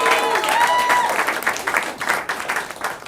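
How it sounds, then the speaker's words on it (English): A comedy club audience applauds for the comedian's wife, a dense wash of clapping that swells and slowly tapers, with a voice heard briefly over it at the start. "Let's everyone give her a round of applause."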